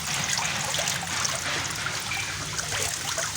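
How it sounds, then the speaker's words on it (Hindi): An outdoor water fountain sprays a jet onto stones, giving a constant close rush of splashing and trickling water, steady and unbroken, with no talking. "ये साउंड भी एक शावर की साउंड आपको आवाज़ आ रही होगी"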